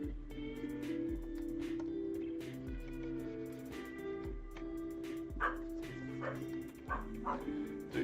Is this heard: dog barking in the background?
yes